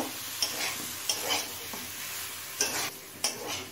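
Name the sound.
eggplant stirred into frying vegetables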